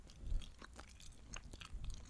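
Close, soft wet chewing of gum with small crunchy bites and mouth clicks, quiet and intimate, no talking.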